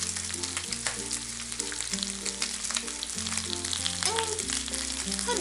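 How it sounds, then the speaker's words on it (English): Pork belly pan-frying toward golden brown, with a steady, close sizzle and crackle running throughout under a low, sustained tonal background, with no talking. "I'm going to slowly pan fry it, and we're getting there. It's almost golden brown."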